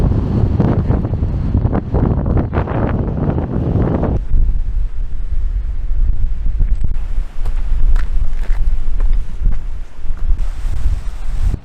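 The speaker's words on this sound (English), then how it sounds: "Oh, it's windy." Strong wind on the upper Athabasca Glacier in Jasper National Park buffets the microphone in a steady, loud roar with gusty surges and no voices.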